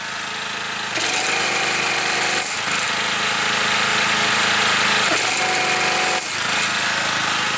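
A Bohmer-AG 2700w petrol generator runs loud and close with a harsh, rattling engine drone. The steady running is broken by a few brief dips, and no one speaks.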